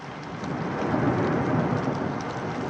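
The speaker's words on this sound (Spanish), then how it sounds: "Durante el mes de agosto son frecuentes las tormentas, los aguaceros." Heavy August thunderstorm with a steady roar of downpour and rolling thunder in mountain country, loud and continuous throughout with no voices.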